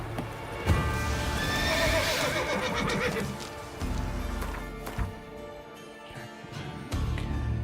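Geralt's horse Roach in Witcher 3 whinnies over a steady clatter of galloping hooves, with further snorts and hoof thuds continuing through the game soundscape.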